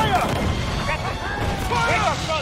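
Ship cannons fire in a naval battle in Assassin's Creed Freedom Cry, with booming shots and crashes over a constant rumble of wind and sea, while someone shouts orders loudly through it.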